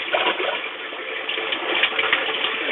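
Water rushes steadily through the fresh water lines of a vintage cruiser trailer, a close, continuous gushing flow with no talking.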